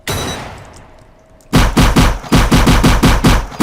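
Video game gunfire in Cosmic War Tycoon: after a quiet moment, loud rapid automatic bursts rattle off in quick repeated volleys, close and punchy.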